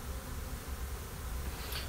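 Honey bees swarm around a hive in the woods while two colonies are combined by the shake-out method, producing a steady, dense, continuous buzz that fills the whole stretch with no talking.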